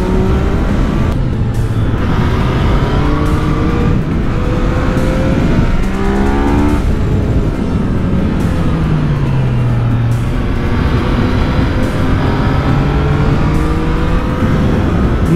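A car engine revs and rises in pitch while climbing a winding mountain road near Rapolla, with loud continuous engine drone and gear-shift pitch sweeps up close throughout.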